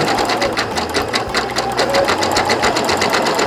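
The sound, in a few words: sewing machine stitching rope for an embroidered bowl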